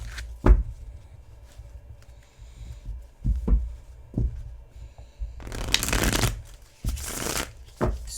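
Thin tarot cards are riffled and tapped together in soft bursts, then a longer rapid fluttering shuffle, close and fairly quiet.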